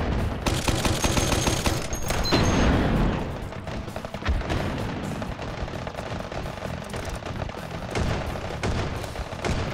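Rapid bursts of gunfire in the VR shooter Hot Dogs, Horseshoes & Hand Grenades, a dense fusillade of loud cracks and booms that rattles on continuously, close and heavy, with no talk.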